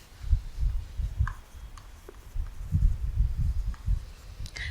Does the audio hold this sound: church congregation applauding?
no